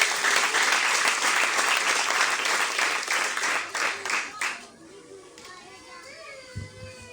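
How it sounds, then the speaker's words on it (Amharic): A church congregation clapping, loud dense applause with children's voices mixed in, fading out after about four seconds into quieter room sound with a few stray voices. "አጨብጭቡ ለጌታ ክብር።"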